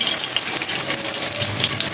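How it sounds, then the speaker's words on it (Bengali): Heavy rain falls outside and is heard from indoors in a home kitchen as a steady, dense hiss and wash of water. It is unbroken and fairly loud throughout, with no speech. "বাইরে প্রচুর বৃষ্টি হচ্ছে বৃষ্টির শব্দ শোনা যাচ্ছে"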